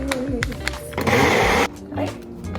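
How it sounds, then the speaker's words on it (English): Countertop blender whirring through a smoothie of oat milk, a loud burst of about half a second to a second, framed by someone talking before and after. "let's blend it up"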